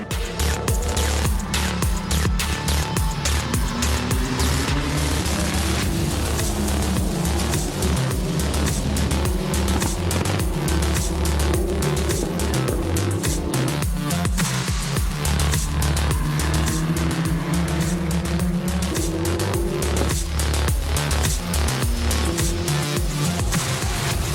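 F3 race cars at the Sepang circuit make a constant loud engine roar as the race starts, with overlapping high revving and gear changes from a close pack of cars.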